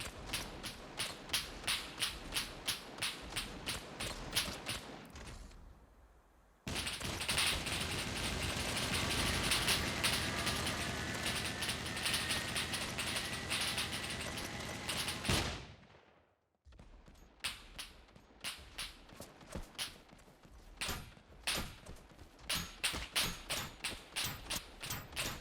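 In the SCUM video game, a mech fires in rapid bursts of sharp, repeated launches and blasts, interrupted by a long sustained roar of explosions and fire before the quick bursts return, loud and without talk.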